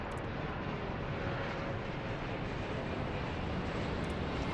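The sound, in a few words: airplane taking off in the video game Airport Madness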